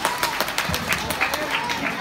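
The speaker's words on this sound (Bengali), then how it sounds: "দিশা ও শ্রেয়ার জন্য জোরে হাততালি।" Audience at a school program clapping for Disha and Shreya, uneven bursts of hand claps close to the mic with a brief voice underneath.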